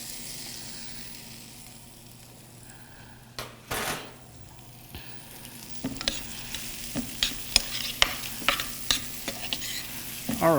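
Garlic, beets and garlic scapes sautéing in a pan for sautéed collards: a low sizzle under quiet scraping, then a run of sharp utensil clicks and knocks against the pan that grow louder and quicker toward the end.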